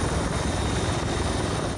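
A helicopter in flight near an airfield holding short, its steady engine and rotor drone loud and continuous throughout, with no voices.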